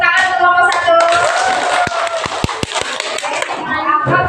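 A children's class claps for a group in a classroom, with sharp hand claps, mostly clustered in the middle, under continuous speech from the teacher and kids.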